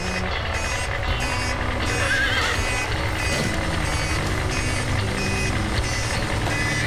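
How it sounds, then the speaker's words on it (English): A cartoon vehicle's reversing alarm beeps in a steady repeating rhythm over engine rumble, with a brief horse whinny partway through, in Bob the Builder. "I don't want to hear beep beep in my yard, only clip-clop."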